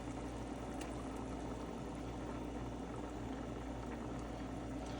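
Steak sauce pours into a hot pan of cooking steak with wine, giving a steady, close bubbling sizzle with a soft liquid wash and no talk.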